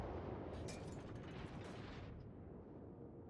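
Naval gunfire in World of Warships, a dense rumbling blast of ship guns with rolling booms that slowly fade, dull and muffled, no voices.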